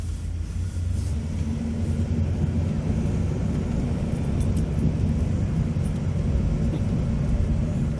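A 1964 Ford Thunderbird driving on the road, heard from inside as a steady, low engine rumble and road drone that stays fairly even throughout.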